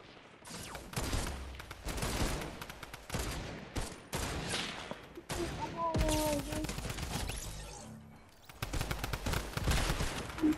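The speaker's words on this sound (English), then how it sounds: "They're shooting it." Fortnite gunfire comes in dense, rapid bursts of shots that roll through most of the stretch, fairly loud, with brief lulls between them and some speech mixed in.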